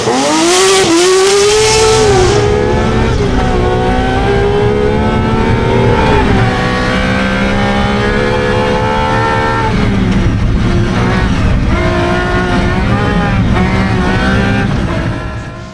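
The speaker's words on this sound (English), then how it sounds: "Your Lancia Stratos rally car." A Lancia Stratos rally car engine revs and pulls through gears on a wet forest stage in Kielder Forest, loud and close, with a rising whine, a dip and renewed acceleration over about sixteen seconds.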